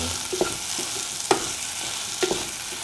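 Soya chunk and egg stir fry sautéing in a pan, a soft continuous sizzle broken by three sharp spatula clinks and scrapes.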